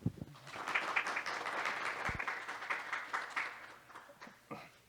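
An audience at a symposium on carbon neutrality and natural ecosystems claps to welcome a session chair, giving a dense, steady roll of applause that swells, then thins and tapers off into scattered claps.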